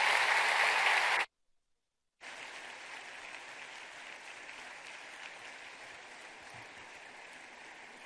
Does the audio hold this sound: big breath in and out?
no